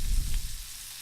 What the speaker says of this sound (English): here is where we're gonna put them on their sides and brown those sides